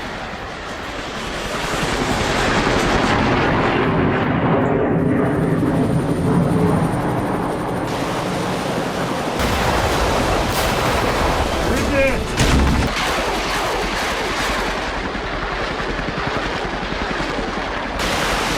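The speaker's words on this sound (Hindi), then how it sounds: "यूक्रेनी हेलीकॉप्टर का बेहद कम ऊंचाई से हमला देखिए।" A Ukrainian Mi-8 helicopter fires missiles at Russian positions from very low altitude, a loud continuous rotor and engine roar broken by sharp launch blasts and a heavy thump near the middle, with no speech.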